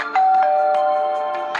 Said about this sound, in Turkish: Yankılanan bir zil sesi seni yataktan fırlatıyor